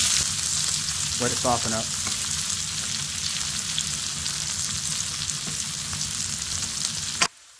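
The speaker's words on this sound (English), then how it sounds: "add it to a skillet with bacon fat" Corn smut (huitlacoche) sautéing in bacon fat in a skillet gives a steady, close sizzle throughout, with a brief spoken remark early on.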